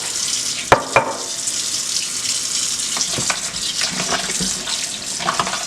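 Oxtail pieces being washed by hand under running water at a kitchen sink, a steady faucet stream with splashing and clinks of meat and bowl, close and fairly loud, no talking.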